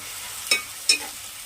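Sliced onions and green chillies frying in hot oil for a fish curry, a soft background sizzle broken by two quick, sharp stirring scrapes.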